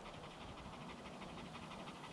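Dog panting steadily in rapid rhythmic breaths, close and fairly quiet against a hissy background, with no talk.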